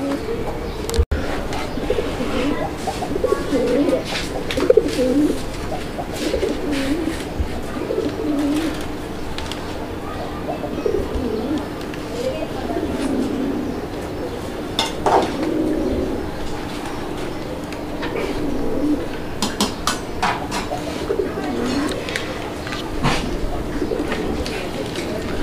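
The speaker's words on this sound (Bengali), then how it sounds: "মেইনলি যে ব্যাপারটা হচ্ছে যে কবুতর ডাকতেছে, আপনারা ডাকটা দেখছেন" Pigeons at a market stall coo in low, repeated throaty calls, scattered through the stretch at moderate distance, with people talking over parts of it.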